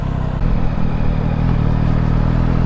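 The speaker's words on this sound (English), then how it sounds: "Hello, Mr. Motorcycle, I see you." A motorcycle engine runs steadily and loudly nearby along a main road, its low mid-range drone constant throughout with no talking.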